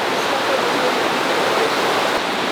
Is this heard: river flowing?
yes